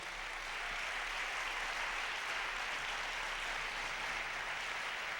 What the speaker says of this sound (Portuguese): Vamos dar um aplauso ao Senhor por isso.